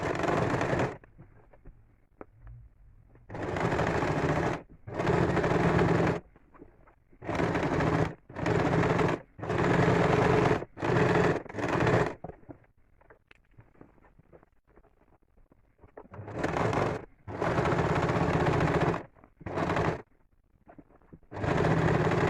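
A sewing machine stitches rows across a quilted seat cushion in loud, close bursts of rapid mechanical chatter, each run lasting a second or two and broken by short quiet pauses.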